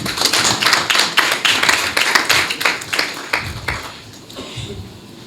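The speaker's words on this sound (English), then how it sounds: "Clap for government and World Bank." An audience at a grant ceremony for entrepreneurs and innovation hubs claps for the government and World Bank, a burst of sharp, close handclaps that slows and fades out toward the end.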